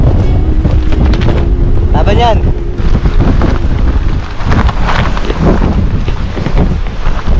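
Strong super-typhoon wind at a seaside campsite in Pagudpud roars and buffets the microphone loudly and without a break, while a person speaks over it.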